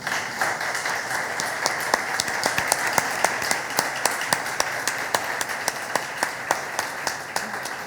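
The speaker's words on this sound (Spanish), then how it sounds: "le damos un aplauso y ahora seguimos" A small audience at a literary talk applauds with steady, rhythmic clapping, individual claps standing out as a regular beat over a softer background of hands throughout.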